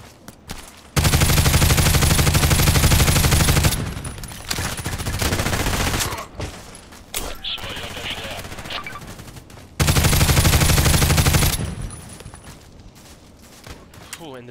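HK G36C rifle firing in the online shooter Contract Wars, long loud bursts of automatic fire broken by quieter stretches and a few single shots, with someone talking at times.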